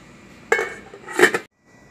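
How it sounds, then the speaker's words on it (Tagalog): A metal lid clanks onto a pot of simmering chicken tinola, two close clattering metallic hits with a ringing rattle, followed by near silence. "So, takpan na natin."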